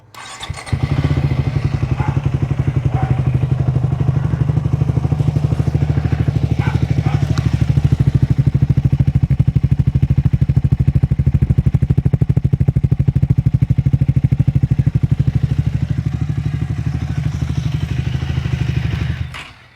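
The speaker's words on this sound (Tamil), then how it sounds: "அப்படியே சவுண்டு இன்ஜினோட சவுண்டை வந்து பார்ப்போம்." A Triumph Speed 400 motorcycle engine and exhaust run steadily for about twenty seconds with a loud, deep, even idle throb and a few light mechanical clatters, close by and alone.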